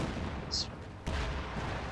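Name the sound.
Katyusha rocket artillery explosions in Company of Heroes 2 video game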